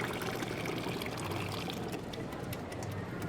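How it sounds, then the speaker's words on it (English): Liquid poured into a pot of lion's mane pozole, a steady continuous pouring and trickling wash heard close and alone throughout. "Can you go ahead and pour some of that in here?"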